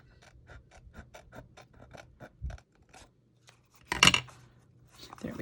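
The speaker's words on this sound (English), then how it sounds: "Cautiously cutting so I don't cut the box apart." Tim Holtz scissors snip through a paper chocolate box in a quick series of short, crisp cuts, followed by a louder rustle of handled paper near the end.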